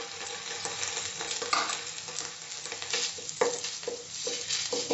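Ginger garlic paste frying with browned onions in a pan and being stirred, giving a steady crackling sizzle broken by repeated scraping strokes of a spoon, close and moderately loud.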